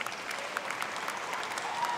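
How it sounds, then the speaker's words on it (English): A crowd applauds steadily at a 2020 commencement ceremony for graduating undergraduates, dense continuous clapping filling the space with no break. "Let's give a big round of applause to all the 2020 undergraduates."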